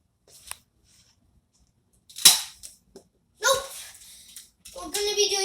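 Nerf toy pistol shots, a few sharp snapping pops fired close by, spaced apart with short gaps, and someone speaking between the shots.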